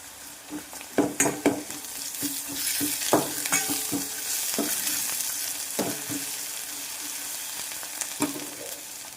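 Turmeric and ginger-garlic paste fry in a pan for bendakaya charu, an okra stew, with a soft continuous sizzle and several sharper spoon scrapes and taps as the mixture is stirred, fairly close and with no speech.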